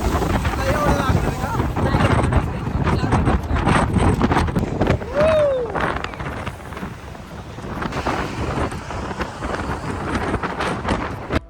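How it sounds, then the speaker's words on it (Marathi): Strong wind buffets the microphone on the open top deck of a double-decker bus in Miami, a loud continuous roar that fills the whole stretch, with voices faintly mixed in beneath it. "एवढा जोरदार वारा चालू होता की आपण काय बोलतो ते समजणार नव्हतं"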